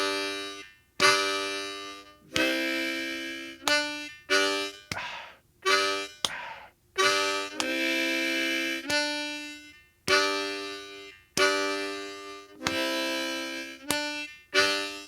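Slow blues riff on a diatonic harmonica, a string of sustained draw and blow notes in short phrases with brief gaps between them, played alone and clearly up close.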